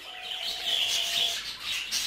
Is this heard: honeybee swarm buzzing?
no